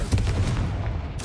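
Confringo, a fire-blast spell cast in Hogwarts Legacy, lands as a deep rumbling blast with a low boom that sustains briefly and ends in a sharper burst.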